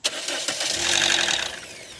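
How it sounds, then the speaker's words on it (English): A farm engine cranks and catches after a water pump repair, revving briefly to a loud roar before settling into a steadier idle. "So, fire up the engine."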